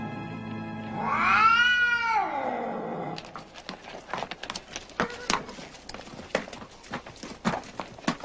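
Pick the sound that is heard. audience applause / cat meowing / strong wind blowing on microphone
cat meowing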